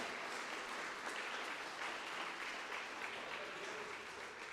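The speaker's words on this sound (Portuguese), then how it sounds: "Pode aplaudir a Deus, aleluia." Church congregation applauding together, a steady, dense wash of clapping held at moderate distance through the whole stretch, with no voices rising above it.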